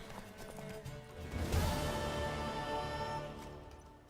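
Horse hooves clip-clopping at a steady walking rhythm in the video game The Witcher 3, fairly close, with a brief whinny and some background ambience.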